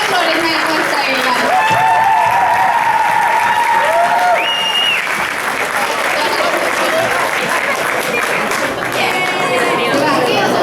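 Audience applause at a Finnish upper-secondary school celebration: continuous dense clapping from a crowd, loud and steady, with whistles and shouts rising above it and chatter mixed in.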